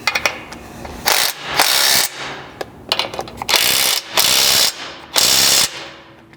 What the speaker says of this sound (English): depending on what tools you have, a ratcheting wrench may fit in there as well